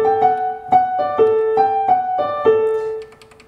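Roland GP607 digital grand piano with its virtual lid set to height 4, playing a short phrase of distinct notes and chords at a steady pace, each attack clear and ringing before the final note fades.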